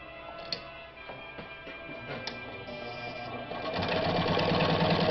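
A Japanese-made Riccar center-needle, low-shank sewing machine stitches denim, its steady rapid mechanical whir running throughout and growing louder and busier in the final second or so, with no talking.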